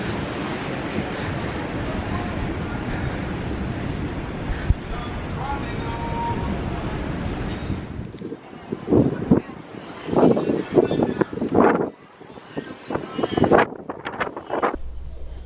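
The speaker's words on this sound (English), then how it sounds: "it is so windy" Strong wind on a cruise ship deck roars and buffets the microphone for several seconds, then drops away as people talk nearby over lighter gusts.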